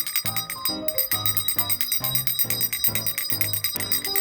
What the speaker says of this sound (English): We're going to call Dino using this dinner bell right here, or this tea bell